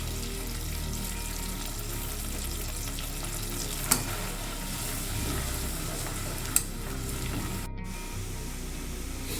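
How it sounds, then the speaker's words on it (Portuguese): Onion frying in margarine in a pan for a base béchamel sauce, giving a steady close sizzle throughout with a couple of brief sharp clicks and no talk. "Agora eu vou acrescentar a cebola. Vou deixar a cebola dourar."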